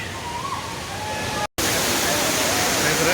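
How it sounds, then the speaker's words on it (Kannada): Jhari Falls waterfall near Chikkamagaluru, Karnataka, in the monsoon, heard as a loud, dense, continuous roar of falling water close by, broken by a brief dropout midway before resuming at full strength. "ಜರಿ ಫಾಲ್ಸ್ ಬಂದಿದ್ದೀನಿ ತುಂಬ ಸಖತ್ತಾಗಿದೆ ಅದ್ಭುತವಾಗಿದೆ ನೋಡಿ"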